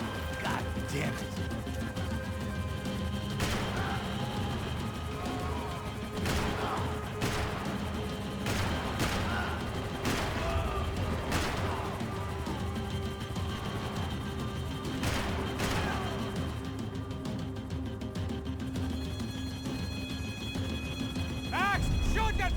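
Max Payne 3 video game combat with sharp gunshots and impact cracks scattered through a constant dense game soundtrack, mixed with shouted in-game dialogue.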